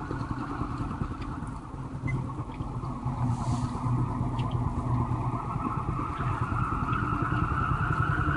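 Wind turbine freewheeling at 200 RPM during a hydraulic brake test, giving a steady, droning mechanical hum with a rough rumbling texture that holds continuously and grows slightly louder.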